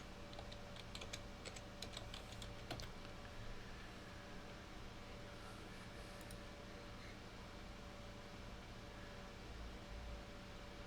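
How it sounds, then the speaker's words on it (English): A short burst of computer keyboard typing while searching for bodyguard images in Fantasy Grounds Unity, faint clicks clustered near the start, then a quiet noisy hum with no talking. "let's just type in bodyguard"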